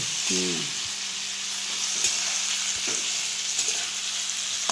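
Okra being stir-fried in a pan for a village-style masala bhindi, a continuous close sizzle with occasional spoon knocks and scrapes, plus a brief faint tonal squeak near the start and no speech.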